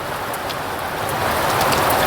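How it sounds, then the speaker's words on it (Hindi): Heavy, steady rain pours down during a monsoon shower in India, a loud dense hiss of drops hitting surfaces that grows slightly stronger toward the end, with no talking. "दोस्तों बारिश छूटने का नाम नहीं ले रहा है"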